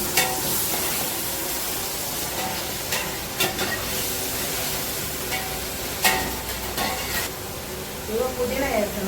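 A paste of tomato, ginger and onion fries for gravy, giving a continuous close hissing sizzle broken by intermittent scraping stirs, with a voice talking at times.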